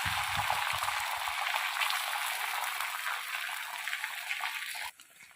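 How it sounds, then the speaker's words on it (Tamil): Beaten egg sizzling on an oiled dosa tawa, a steady loud hiss that fades slightly before cutting off abruptly near the end. "இப்போ தோசைக்கல்லில் கொஞ்சமாக எண்ணெய் ஊற்றிட்டு முட்டையை ஊற்றி விட்டுருங்க."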